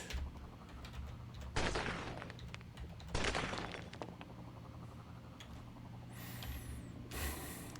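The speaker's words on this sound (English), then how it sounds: "I just need to get through the wall. We'll do that with a Nova cannon here." Nova cannon shots blasting through a wall in the game Cogmind, a few sharp broadband bursts spaced a second or two apart over a humming background, with a brief whistling tone near the end.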